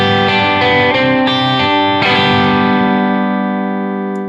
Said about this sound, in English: now I can use my pick velocity to control the amount of distortion.